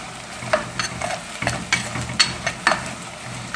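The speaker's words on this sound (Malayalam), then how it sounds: "ഞാൻ മല്ലിപ്പൊടിയും അതുപോലെ തന്നെ അവിടെ മൂപ്പിച്ചെടുക്കുക." Coriander powder being roasted and stirred in a pan for duck curry, a soft sizzle under repeated scraping strokes of a spoon, close and fairly quiet.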